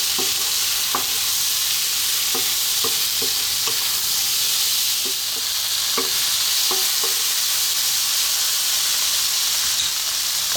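Kedgeree ingredients fry in a hot pan over slightly above medium heat with a steady, loud sizzle. Scattered light scrapes and taps of a utensil stirring come at irregular intervals throughout.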